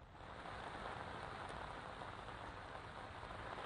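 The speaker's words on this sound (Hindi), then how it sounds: "मूसलाधार बारिश दिल्ली एनसीआर में हो रही है" Heavy monsoon rain pours down at Mandi House circle in central Delhi, a dense, even hiss of downpour on surfaces that stays constant throughout, with no speech.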